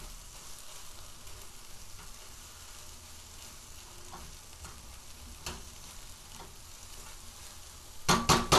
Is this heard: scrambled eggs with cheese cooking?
yes